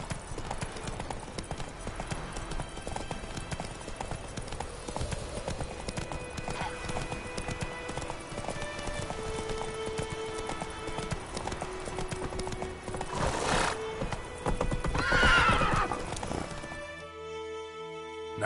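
The horse Roach in The Witcher 3 gallops with steady, rapid hoofbeats under a loud game soundtrack, then lets out a sharp whinny near the end, with a brief spoken exchange among the riders.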